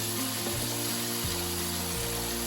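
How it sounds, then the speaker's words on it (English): Tomatoes and spices fry in a pan for a West Bengali fish curry, giving a constant, fairly loud sizzle with no break and no talking. "You even want your tomatoes to fry a little bit."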